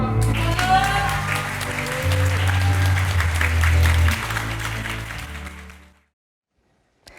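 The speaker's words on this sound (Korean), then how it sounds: "뜨거운 박수를 보냅니다" Loud, sustained applause from a theatre audience at the end of a musical performance, steady clapping over music that fades out near the end, followed by silence.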